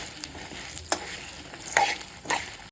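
Mutton boti pieces fry in a pan on a gas stove, giving a soft steady sizzle broken by a few brief stirring scrapes, close and fairly quiet.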